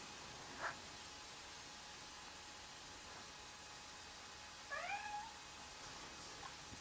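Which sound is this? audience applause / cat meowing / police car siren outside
cat meowing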